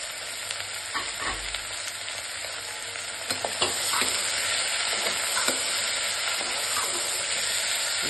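White peas fry in hot oil for vegetable palav, giving a loud, steady close sizzle with occasional stirring scrapes and clicks throughout.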